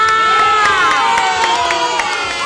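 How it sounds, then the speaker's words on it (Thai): Kindergarten children at a school scholarship ceremony cheer and shout in high, sustained voices with scattered claps mixed in, forming a loud, continuous crowd noise that stays fairly steady throughout. "อ่เด็กๆขอเสียงปรบมือนะคะ"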